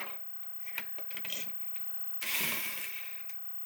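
Screws being worked loose from the battery tray of a toy foam blaster: faint clicks and scraping from a screwdriver, then a louder stretch of rubbing, gritty friction, close and quiet.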